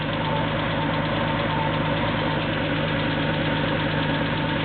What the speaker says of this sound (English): Just hear the idle speed pick up a little bit as it first starts up and runs.